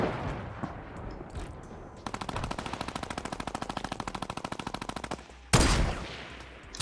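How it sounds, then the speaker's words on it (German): Gunfire in Fortnite Battle Royale: a long rapid burst of evenly spaced shots rattles for about three seconds, followed by a single sharp loud crack, over low game ambience. "Ah, der snipert auf mich."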